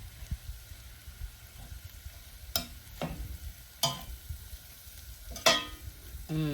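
Beef stroganoff sizzling in a pan while being stirred, a low steady fry broken by a few sharp scraping strokes of the utensil against the pan, fairly close and moderately loud.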